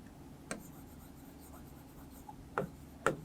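Faint chalk or marker strokes on a board during a grammar class, with a few brief tapping scratches, two sharper ones near the end, over a quiet room.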